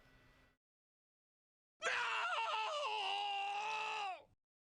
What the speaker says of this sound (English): Let's hear some screaming.